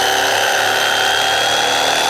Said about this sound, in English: this is an electric meat cutter knife, carving knife, meat